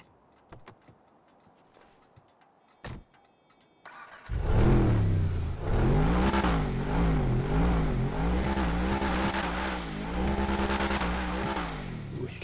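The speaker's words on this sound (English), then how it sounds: "You can really hear that turbo spool" A Truffade Adder supercar in GTA Online starts up after a few quiet clicks, then its engine revs loudly and repeatedly, rising and falling, with turbo spool over a steady close-up growl.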